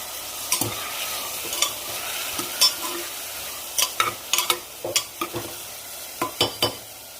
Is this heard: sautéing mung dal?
yes